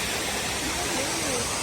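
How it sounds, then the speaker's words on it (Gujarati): Waterfall in Tamborine National Park in Queensland, Australia, a constant broadband roar of falling water, loud and unbroken throughout. "તો કંઈક ધોધ છે"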